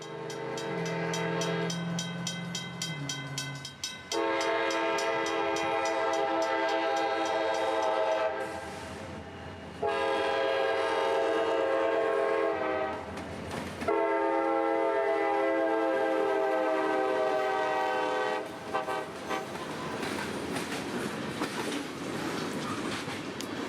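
A train passes an old road crossing with mechanical bells, its horn sounding in long sustained blasts that stop and start, over the rumble and clatter of the rail cars; no one speaks.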